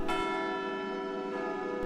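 Big Ben ringing its bells at midnight, a sustained resonant church-bell tone with strong lingering harmonics, struck again partway through and near the end, loud and alone with no talking.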